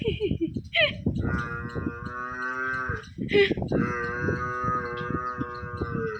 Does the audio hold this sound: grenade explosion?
no